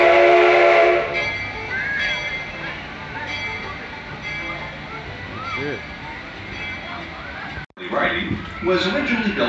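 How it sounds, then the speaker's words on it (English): An amusement park train at Knott's Berry Farm rumbles steadily past amid a busy crowd, with voices chattering throughout and a brief cut before louder nearby talk. "There's the train."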